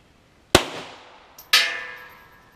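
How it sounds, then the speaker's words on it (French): Two sharp rifle shots from a Browning 10-22 fired at a 15-metre target, close and loud, about a second apart, each with a short ringing decay and no talking. "5 munitions à 15 mètres avec ce Browning 10-22"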